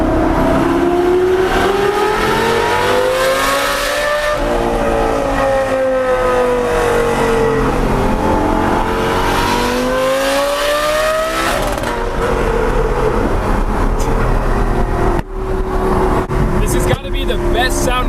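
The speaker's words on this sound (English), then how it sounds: "The best sounding V10 engine ever." A Lamborghini Gallardo Superleggera's V10 engine revs loud and close for the whole stretch, its pitch climbing and falling through repeated acceleration sweeps, with a sharper burst near the end.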